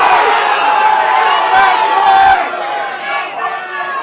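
A live convention audience at PAX West 2023 shouts out instrument choices all at once, a loud, jumbled wall of voices that swells and then thins out.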